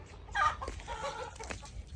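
Chickens cluck softly at close range, a few short burbling calls scattered over a low background hum.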